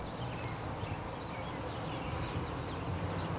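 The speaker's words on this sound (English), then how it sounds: "we're starting to get into some bees here." Honey bees buzz inside a top-bar hive, a dense, continuous hum that stays steady and close throughout, with no voices over it.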